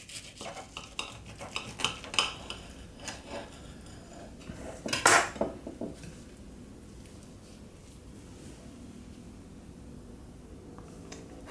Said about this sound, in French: On va couper cette galette en deux et voir comment l'intérieur se présente.